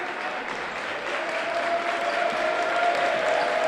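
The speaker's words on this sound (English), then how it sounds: "You hear the crowd declaring it," A crowd at a boys' high school playoff basketball game between the Rock Ridge Wolverines and Esko cheers and claps loudly, a dense, sustained roar that swells slightly toward the end, with an announcer faintly underneath.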